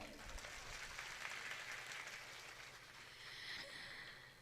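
An audience at a Shri Ram Katha gathering in Saharsa applauds, a dense, steady wash of many hands clapping at a distance, fairly faint, swelling slightly toward the end.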